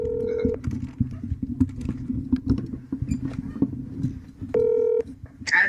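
A phone call placed as a regular call instead of FaceTime, with short electronic dial tones at the start and again near the end over a low room hum and faint background noise.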